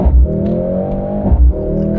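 The 2-liter four-cylinder engine of a Mercedes-AMG GLC 63 S E Performance hums at a steady idle-like drone, with two short bassy pulses, close and moderately loud.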